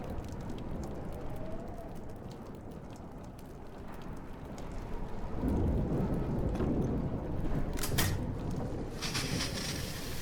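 A thunderstorm in the Life is Strange video game, steady rain hissing throughout with a low rolling rumble of thunder swelling midway and a few sharper crackles near the end.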